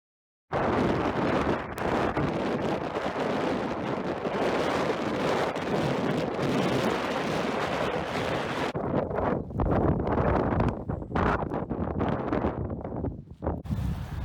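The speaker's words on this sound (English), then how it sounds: "Super windy and rainy." Strong, continuous wind roaring and buffeting against the microphone on a hilltop at Mam Tor, loud and close, with gusts rising and falling throughout in rainy weather.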